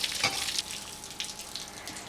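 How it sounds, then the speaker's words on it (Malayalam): Soaking water is poured off soaked rice, a close, trickling, splashing pour with a few brighter spurts and gurgles over about two seconds, with no voices. "അപ്പോൾ അതിലത്തെ വെള്ളം കളഞ്ഞിട്ട് നമുക്കൊന്ന് ഊറ്റി വയ്ക്കാം"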